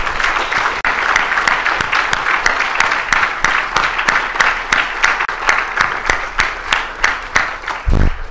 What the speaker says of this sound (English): I'd love a round of applause for the Henry Crown.